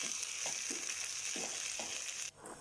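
Tadka for sarson ka saag sizzles steadily in hot oil, a dense continuous hiss with a few soft stirring clinks, close and moderately loud, ending abruptly near the end.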